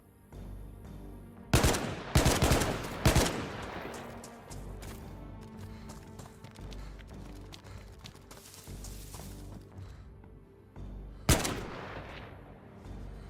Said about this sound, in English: Once again hearing gunshots